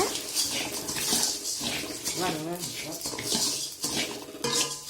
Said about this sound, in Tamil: இங்கே பாருங்கள் மே கொத்தமல்லி வறுத்துட்டுருக்குறாங்க